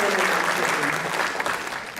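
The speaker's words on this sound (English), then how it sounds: "Let's give them all a round of applause" A folk dance festival concert crowd applauds, a dense continuous wash of many hands clapping close and loud, with a voice faintly underneath.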